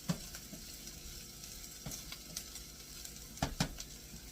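Spam and pineapple sizzle steadily in a hot pan, a soft continuous frying hiss broken by occasional scrapes and clinks of stirring, heard faintly with no talk.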